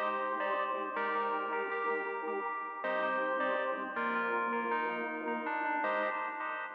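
A bright synth keyboard sound called Planets plays a slow chordal trap melody with shimmering chorus and echo, notes changing every second or so, with no voices.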